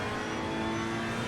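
Ferrari 488 race car in Assetto Corsa Competizione at Paul Ricard, engine droning steadily and loudly close by for the whole moment, no voices over it.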